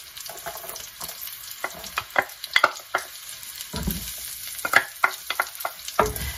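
Onion, with ginger about to go in, stir-fries in a pan as a soft background sizzle broken by sharp clicks and scrapes of a utensil tossing the pieces, all close and without speech.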